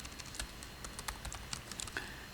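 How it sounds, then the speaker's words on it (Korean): Code is typed on a computer keyboard in a rapid, uneven run of soft close key clicks, heard alone at low volume. "이렇게 타이핑을 하고요."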